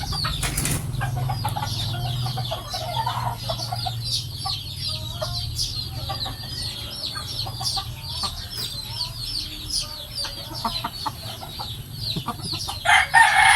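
A tied-up bearded rooster crows repeatedly with hen-like clucking and a brief flutter of wings, set against busy outdoor bird chatter.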